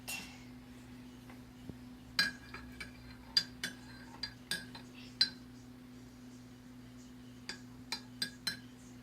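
A spoon clinking against a bowl while ingredients are mixed at home, a series of sharp, light metallic taps spaced irregularly over a steady low background hum, fairly quiet.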